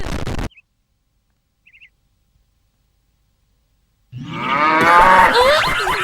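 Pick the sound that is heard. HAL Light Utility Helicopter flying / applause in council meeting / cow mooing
cow mooing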